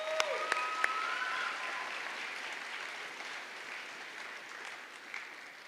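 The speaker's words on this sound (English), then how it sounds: "Let's give you one more big round of applause." Applause at a school convocation, a crowd clapping steadily and fading gradually from moderate to faint, heard from a distance in a large hall with a few brief tonal sounds near the start.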